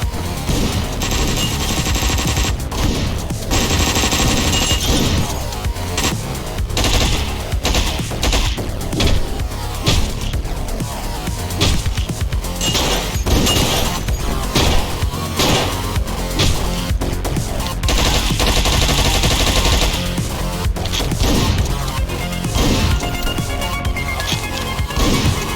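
Colombian gangsters open fire in the video game Hotline Miami: dense, rapid bursts of automatic gunfire and crashing impacts, loud and nearly continuous, blended with the game's driving soundtrack.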